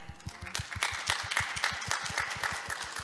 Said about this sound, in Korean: 여러분 큰 박수와 인사로 환영해 주시기 바랍니다.